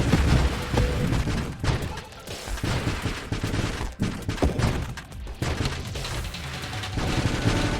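Homing weapon shots in the space shooter Nova Drift, firing in a dense, continuous barrage of loud bursts and booms that hardly let up, with faint speech underneath.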